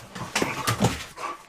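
A pet dog whimpers in short, high-pitched whines close by indoors, several brief cries spread across a second and a half with no talk over them.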